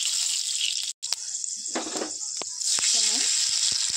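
Panch phoron spices sizzle in hot oil with a bright, steady hiss close by, broken by a brief dropout, a few clinks and a short murmur of voice.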